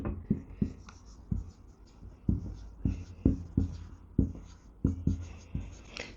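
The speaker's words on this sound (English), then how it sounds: "Let's write it." Pen or marker writing by hand, a series of quick scratchy strokes in irregular bursts, close and clear with no talking.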